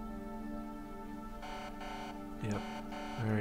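Alarm in the space strategy video game rymdkapsel, a sustained electronic buzzing tone with pulsing bursts and rising sweeps, fairly loud with no talk.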